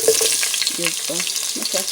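Chopped onion fries in a pan with a steady, close, bright sizzle that stays loud throughout. A few faint tonal sounds sit underneath the crackle.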